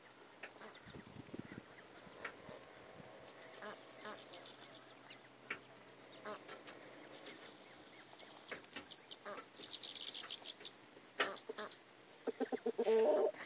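Chickens clucking near a goose nest in a farmyard, scattered close calls of varying loudness, with duck-like quacks and a few louder squawks toward the end.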